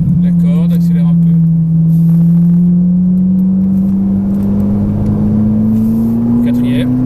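A Ferrari on a driving course accelerates in a steady, rising engine drone close by, the pitch climbing gradually throughout, with a few faint voices briefly audible at the start.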